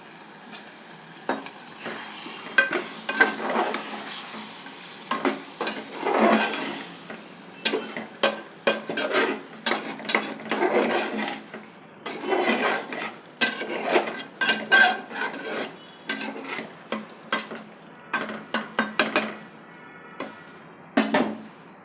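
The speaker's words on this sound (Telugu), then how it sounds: "ఇంకా చికెన్తో పాటు మట్టికాయలు కూడా వేసి బాగా రోస్ట్ చేస్తున్నాను." Chicken and mattikayalu roast with masalas in a pan, a spatula scraping and clattering in quick irregular bursts over a soft, steady sizzle, growing busier toward the end.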